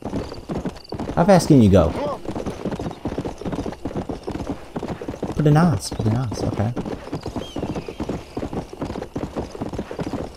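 Horse hooves clip-clop in a steady gallop while riding in Red Dead Redemption, with occasional neighs and whinnies; someone talks over the rhythmic hoofbeats throughout.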